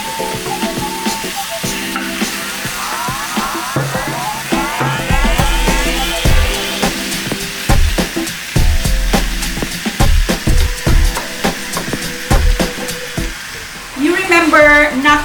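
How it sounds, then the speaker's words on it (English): Pork pan-fries in its own rendered fat for adobo, a steady sizzle and crackle with clattering utensil scrapes and knocks against the pan, close by and fairly loud. "you have to allow the pork's oil to come out, and then it will fry the meat with its own oil"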